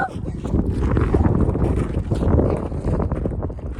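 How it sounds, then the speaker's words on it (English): Strong wind during a dust tornado buffets the microphone in a constant roaring rush, gusting louder and softer, with no clear voices standing out. "It's so windy."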